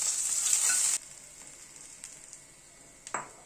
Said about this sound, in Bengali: মাছটা তুলে নেওয়ার পর যে তেল আছে তাতে মেথি ফোড়ন দিচ্ছি প্রথমে।